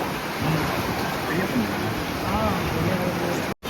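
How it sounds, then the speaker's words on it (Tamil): Strong coastal wind buffets the microphone over crashing sea surf at Kanyakumari, a steady loud roar with no voices, ending in a brief dropout. "ரொம்பவே காத்து அதிகமா இருக்கு,"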